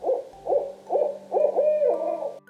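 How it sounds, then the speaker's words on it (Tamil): An owl hoots in an even rhythm of about five calls, the later ones drawn out, clear and close over a faint low hum. "ஆந்தை."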